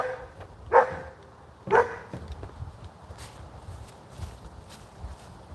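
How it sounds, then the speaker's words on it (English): A dog barks twice, sharp and fairly close, about a second apart. Softer shuffling footsteps and faint outdoor noise follow. "What are you freaking barking at?"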